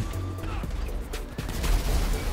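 Gunfire in the video game GTA 5 during an Area 51 alien breakout, with tanks in the fight. Dense rapid shots and crashes run steadily throughout, under a continuous game soundscape with a deep rumble.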